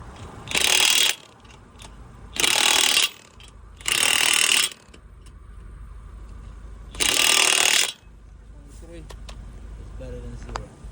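A car's lug nuts tightened with a ratcheting wrench during a roadside tire change, four bursts of rapid loud clicking separated by pauses, with faint mechanical noise and background hum between them.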